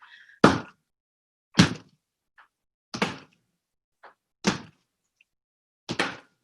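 A clay slab is slammed down onto canvas five times, each a heavy, close, sharp thud spaced at a steady rhythm with silence in between.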